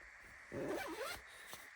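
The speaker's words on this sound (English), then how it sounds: "Zip that up." One quick zipper pull, likely on ski pants or outdoor winter gear at a snowy campsite, gives a close, rasping zip of about half a second over a steady background hiss.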